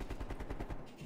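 Rapid automatic gunfire from blind firing in Call of Duty Black Ops Cold War, a quick burst of about ten evenly spaced shots, somewhat faint and heard without talk.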